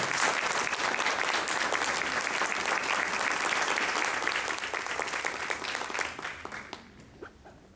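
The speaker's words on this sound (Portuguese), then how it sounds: "eu quero pedir uma salva de palmas pela FIEP, pela sua iniciativa e manutenção." Sustained audience applause at an event in Curitiba, a dense, loud wash of many clapping hands that holds steady for several seconds and then fades out toward the end.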